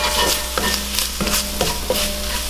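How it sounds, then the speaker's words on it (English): A roux of flour and onions cooks in a pot, sizzling steadily while a utensil stirs it in quick, regular scraping strokes, close up. "So I'm going to make this roux with 4 tablespoons"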